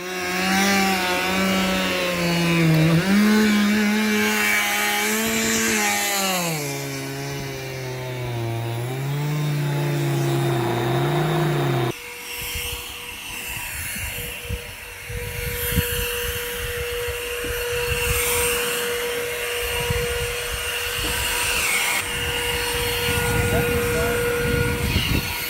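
An ATLAS 80-volt backpack leaf blower whines steadily at its regular setting, shifts pitch, then roars louder and rougher on turbo, close and continuous, with a voice heard briefly over it.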